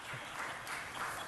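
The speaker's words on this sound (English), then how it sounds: "the applause is a disruption, so please stop" Applause fills a city council meeting chamber, a dense, steady wash of many hands clapping at moderate distance without pauses or voices.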